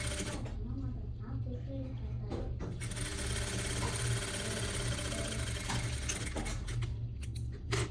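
A sewing machine runs stitching a seam on a fashionable suit, a continuous close mechanical whir with rapid needle chatter, briefly slowing and restarting, with no one speaking.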